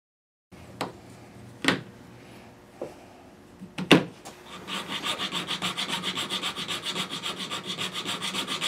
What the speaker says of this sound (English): the razor blade is basically used to scrape up the last of the evidence of any filler or glue from the fingerboard surface